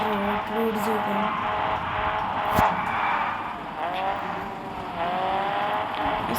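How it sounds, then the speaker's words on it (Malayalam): A car drives along a road in the Car Parking Multiplayer video game, its engine droning steadily with slight pitch shifts and a brief sharp tick partway through. "അങ്ങനെ നമുക്ക് റോഡിൽ ഓടിച്ച് നോക്കാം."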